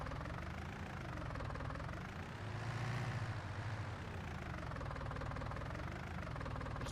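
A tractor engine runs steadily in Farming Simulator 19 on PS4, a continuous low droning rumble with a slight swell in the middle, loud and close throughout with no talking.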